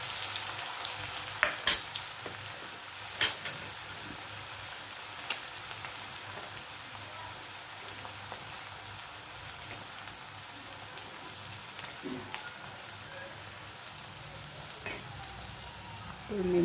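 Onions and green chilies fry in a pan for pav bhaji, giving a steady crackling sizzle with occasional sharp pops and clicks of stirring throughout.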